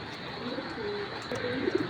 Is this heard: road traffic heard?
no